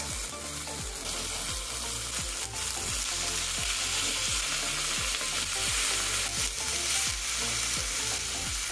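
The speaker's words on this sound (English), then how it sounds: "After cooking the onions, it's time to add the pork pieces." Pork pieces frying in oil with sautéed onions for adobo, a loud, dense and constant sizzle close by, with a faint rhythmic scraping running underneath and no speech.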